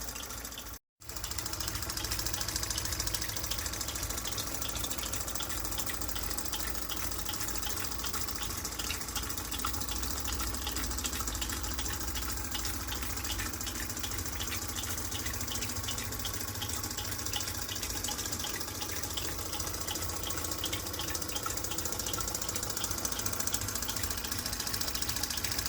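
A tiny brass and copper steam engine drives a 1950s water pump, giving a steady, loud chuffing and rhythmic mechanical ticking mixed with sloshing water that runs continuously after a brief dropout near the start.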